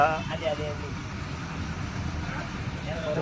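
A vehicle engine drones steadily from inside a moving bus travelling from Nalasopara through Bandra Kalanagar toward Dadar in Mumbai. Road rumble stays low and even while someone talks over it.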